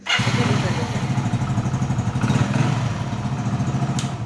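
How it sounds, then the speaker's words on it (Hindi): An old used motorcycle engine idles close by with a steady, lumpy putter and a brief rev in the middle, running continuously throughout. "बाइक को स्टार्ट करके देखना होगा कि किसी प्रकार के साउंड तो नहीं आ रहा है बाइक में से"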